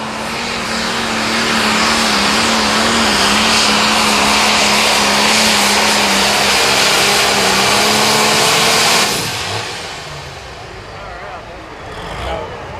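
A John Deere 4440 pro stock pulling tractor, the Bounty Hunter from Clarkson, Nebraska, roars at full power in a Limited Pro Stock pull at Mound City, Missouri, loud and sustained for about nine seconds before cutting back to a lower idle.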